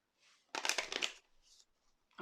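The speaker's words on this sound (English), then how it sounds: "Let me just give this deck a sweet shuffle." A tarot deck is shuffled by hand, one dense riffle of crisp card flutter lasting about half a second, followed by a few soft card flicks and a final short riffle, close and quiet.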